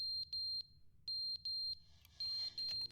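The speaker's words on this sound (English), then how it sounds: "There's a fire alarm going out." Fire alarm in the video game The Stanley Parable beeping in sharp, high, electronic pulses, several bursts in an uneven repeating pattern, loud and close with a faint low hum beneath.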